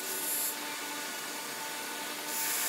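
A fiber wheel buffing a carriage bolt and metal ferrule on a corncob file handle gives a steady, close whirring hiss, with a brighter rush at the start and end where the part presses harder.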